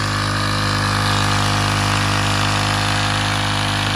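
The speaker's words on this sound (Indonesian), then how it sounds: "ini kita lakuin penyemprotan, ini mesinnya" The small engine of a pesticide sprayer machine runs loud and close in a durian orchard, with a steady, unbroken drone and hum.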